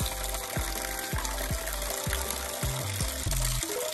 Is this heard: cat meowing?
no